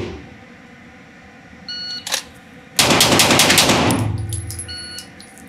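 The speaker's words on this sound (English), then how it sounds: "Five shots, stand by." Five rounds go off from a Sig Sauer handgun in a timed shooting drill: a sharp, loud burst of rapid shots follows the camera-like beep and clicks that precede them, then decays into ringing.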